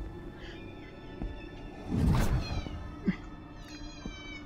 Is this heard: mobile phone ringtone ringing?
no